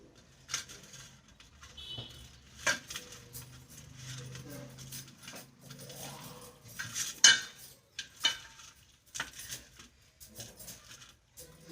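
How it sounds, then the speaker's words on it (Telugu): A knife cuts through a traditional laddu against a plate, with scattered soft taps, scrapes and light clinks at close range, quiet and irregular, with no speech. "చాక్తో కట్ చేస్తాను."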